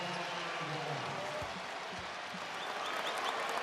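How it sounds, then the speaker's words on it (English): A basketball arena crowd gives a warm round of applause as a player checks out during a Big East championship game, steady dense clapping filling the space with faint voices mixed in. "Gets a nice hand from the crowd."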